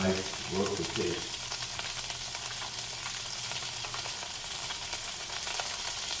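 Salmon sizzles steadily in a pan with a constant hiss, left unmoved, while a short burst of speech comes at the start.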